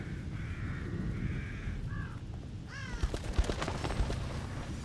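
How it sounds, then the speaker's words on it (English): Crows caw in a dark forest in the video game The Evil Within, a few harsh calls rising over a low ambient drone, followed by a run of sharp percussive cracks. "Look at those crows."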